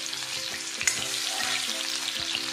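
The white part of an onion fries in hot oil for chicken chilli, a steady close sizzle with light stirring scrapes and a faint background hum, no talking.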